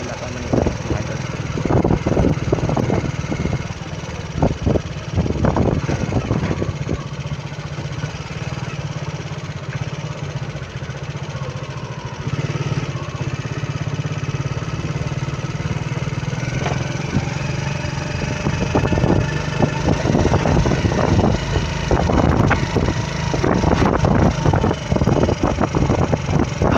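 Motorcycle with a sidecar rumbles steadily along a road, engine drone constant with bumps and rattles from vibration, fairly close and continuous throughout; no clear talk over it.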